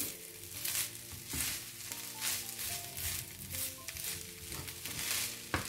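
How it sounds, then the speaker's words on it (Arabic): Rice with raisins fries in a pan, a steady close hiss of sizzling with occasional stirring scrapes, no voice. "دابا غادي نخليه حتى تيتشحر مزيان"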